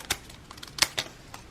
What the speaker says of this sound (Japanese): あとはこれをハサミで切ります。